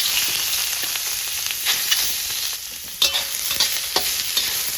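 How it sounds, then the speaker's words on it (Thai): Soaked, boiled and thinly sliced shiitake mushrooms stir-fried in a little oil for rice porridge, giving a steady close sizzle broken by repeated scraping and clacking stirs of the spatula, with no speech. "เราซอยเป็นชิ้นเล็ก ๆ ผัดด้วยน้ำมันเล็กน้อย"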